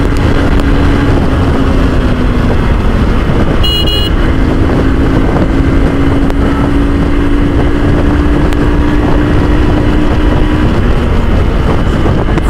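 Hero Xtreme 200S motorcycle being ridden, a steady engine drone holding a fairly even pitch under heavy wind rush on the microphone, with a short high tone partway through, loud and continuous with no talk.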